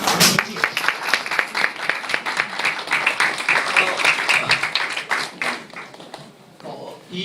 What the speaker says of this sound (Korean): 나오실 때 큰 박수로 환영하면 좋겠습니다